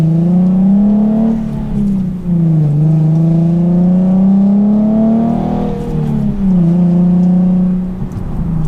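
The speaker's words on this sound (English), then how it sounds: "So now, just like normal, giving it some more gas to get up to speed." A manual-transmission car given more gas to get up to speed, its engine droning loud and close, pitch climbing through revs with dips between gear changes, steady throughout with no voices.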